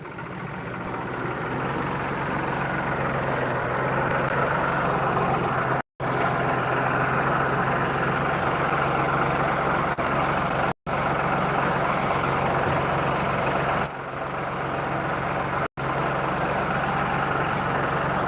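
A New Holland tractor engine idles steadily with a low, continuous rumble for the whole stretch, broken only by a few brief dropouts; no voices.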